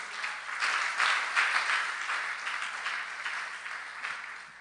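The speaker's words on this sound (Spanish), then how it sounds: "Dale un fuerte aplauso al Padre." A church congregation bursts into loud, sustained applause that fills the room evenly from start to finish, with no voices rising above the clapping.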